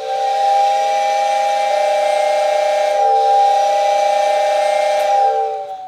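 A Lionel tender whistle and a toy steam train whistle sound together in one loud, sustained steady tone, their close pitches beating into a fast fluttering throb before cutting off.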